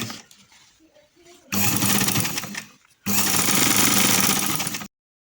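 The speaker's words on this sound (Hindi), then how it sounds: "अब यहाँ पर हम इसकी सिलाई लगा लेंगे" A sewing machine stitches trouser fabric in two loud, rapid bursts of whirring needle chatter separated by a short pause, after a quieter stretch of handling noise.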